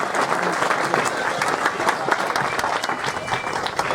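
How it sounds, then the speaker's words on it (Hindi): Onlookers at a police post inauguration in India clap to welcome the SP, a sustained, dense wash of applause from a sizable crowd with voices mixed in underneath. "एक बार जोरदार तालियों से आप स्वागत बेला में तालियां बजाकर स्वागत करेंगे"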